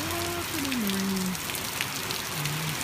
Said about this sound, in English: somebody walking in the rain